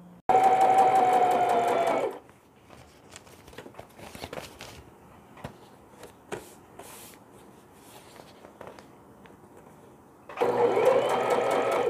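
Sewing machine stitching fabric for a hanging baby laundry bag, a loud steady whirring run that stops for a quiet stretch of handling noises, then starts again.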